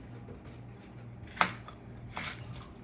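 A knife slices half an onion as thinly as possible, giving a few soft crisp cuts with a sharper tap near the middle, close and quiet against a low steady background hum.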